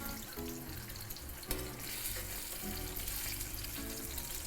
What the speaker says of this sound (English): I'm pretty sure our skin is nice and seared.